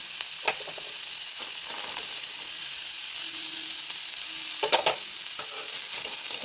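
Finely chopped onions fry in a pan for samosa filling, a steady bright sizzle with occasional stirring scrapes and small pops, close and continuous.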